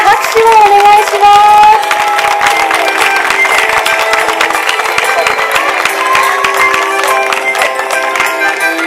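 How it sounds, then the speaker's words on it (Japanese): Audience applause at a fashion event talk show, a steady wash of clapping from a crowd with some cheering, mixed with background music and a loud sustained tone. "皆様大きな拍手をお願いします"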